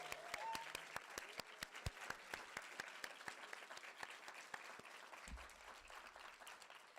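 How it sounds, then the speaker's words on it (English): Audience applause for a group of fellows at a lecture event, sustained clapping from a crowd filling the whole span at moderate distance, with a brief low thump near the end. "can we give the fellows another round of applause?"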